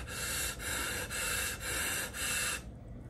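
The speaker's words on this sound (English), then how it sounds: "So I fill up my lungs and then." Deep inhale through a scuba regulator as a diver fills the lungs: a long, steady hissing airflow broken into four or five surges, close and fairly quiet, with no talk.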